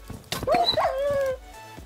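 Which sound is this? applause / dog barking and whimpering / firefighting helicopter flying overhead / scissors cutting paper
dog barking and whimpering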